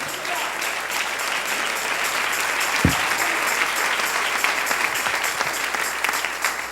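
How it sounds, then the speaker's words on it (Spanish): Church congregation applauding together during a Spanish-language sermon, a loud sustained wash of clapping with one sharp thump partway through. "Dale ese aplauso al Rey."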